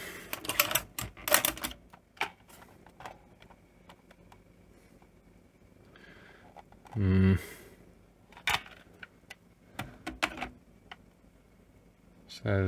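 A Philips N1700 VCR mechanism makes odd clicking, clattering and whirring noises while handling a tape, with sharp mechanical bursts and a low hum, heard close up.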